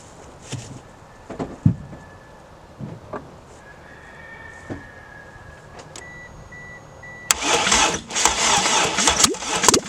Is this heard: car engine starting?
yes